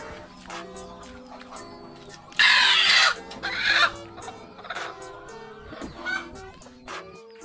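Chickens cluck and murmur in a shed, with several sharp, louder calls rising over the ongoing flock chatter and faint background noise.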